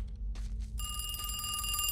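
A telephone starts ringing after a brief quiet moment, its steady electronic bell tone sounding continuously and fairly clearly over a low background rumble.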